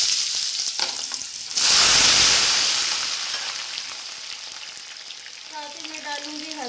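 Pointed gourd (parwal) drops into hot oil with a sudden loud sizzle that slowly settles into a steady crackling fry, and a voice speaks briefly toward the end.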